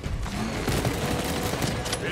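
Rapid gunfire from a Warhammer 40,000: Space Marine 2 co-op battle keeps up a dense, loud, continuous clatter, with a voice speaking faintly underneath.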